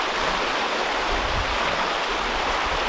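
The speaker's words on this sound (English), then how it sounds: "the water's rushing" Steady rushing water of a mountain stream in the Oregon Cascades, a continuous broadband wash with no pauses, close and fairly loud, heard alone without voices.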